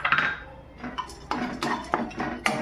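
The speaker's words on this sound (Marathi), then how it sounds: "परत मी कढई ठेवली, त्याच्यात हे काजू कापलेले" Chopped cashews being dry-roasted in a hot kadhai for ragi laddu, a spatula scraping and clinking against the metal pan in a series of close, irregular strokes with no talk.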